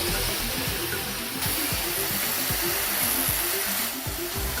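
Angle grinder rated 220 volts and 800 watts, powered by a 20 kW generator: a steady, loud whine and drone with a rough, pulsing low rumble that runs without a break.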